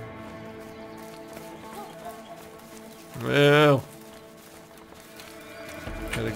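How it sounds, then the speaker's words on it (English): Horses neigh inside a barn in the video game A Way Out, with one loud whinny rising midway over a quiet ambient background and soft talk around it. "Sound of horses."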